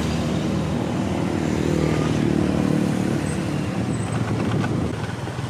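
Motor traffic on a road on Koh Samui, a steady engine rush with a passing vehicle that swells mid-clip and fades, fairly close and continuous.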